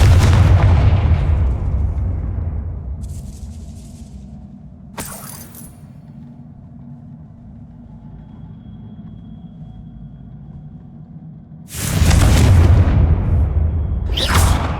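Confringo fire spell explosions in the video game Hogwarts Legacy land as loud, booming blasts with crackling debris, one heavy burst at the start, a sharp crack mid-way and another big roaring blast near the end, no talking.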